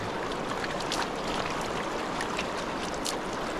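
A mountain river in Azad Kashmir rushes steadily past the bank, a dense, continuous wash of flowing water heard close and alone without talk.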